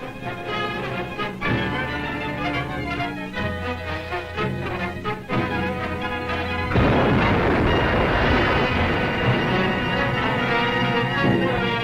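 Loud, booming explosions and rumbling blasts aboard the aircraft carrier Lexington during the Battle of the Coral Sea, with a sustained roar of noise building in the second half.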